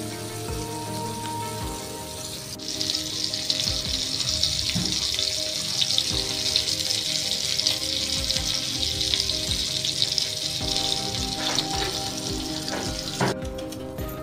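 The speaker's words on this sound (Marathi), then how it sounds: "कोळंबी फ्राय झालेली आहे बघा मस्त." Tiger prawns frying in a pan give a loud, steady sizzle up close, with occasional stirring clatter and a few sharp clicks, and no one speaks.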